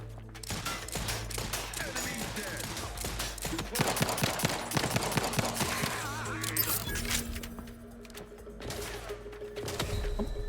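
Gunfire in The Outer Worlds 2 cracks out in quick irregular bursts of sharp shots, moderately loud, with a voice talking at times between and under the shooting.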